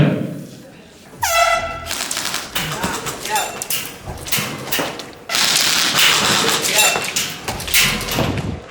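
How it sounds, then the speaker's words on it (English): An air horn blast signals the start of an airsoft round at a national championship, a short stacked tonal honk near the start followed by busy crowd noise and rapid clattering shots from rifles, with voices throughout. "Game is live on the horn."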